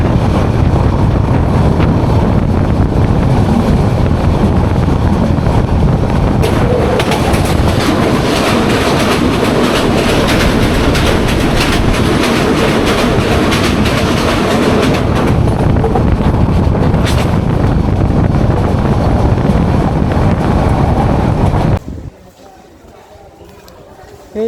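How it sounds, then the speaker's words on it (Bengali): The Mahanagar Provati passenger train runs on after pulling out of Narsingdi station, a loud, steady rumble and clatter of the carriages with wind rushing past the microphone, going on unbroken for most of the stretch before cutting off abruptly near the end. "নরসিংদী রেলওয়ে স্টেশনে মাত্র 3 মিনিট যাত্রা বিরতির পর আবার ছেড়ে দিল মহানগর প্রভাতী"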